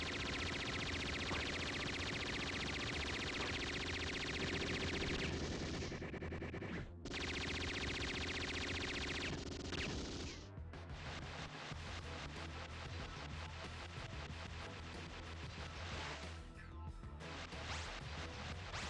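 Dense, continuous heavy machine gun fire in the video game Metal Slug 6, rapid bursts layered with explosions and game sound effects, loud and chaotic with brief gaps.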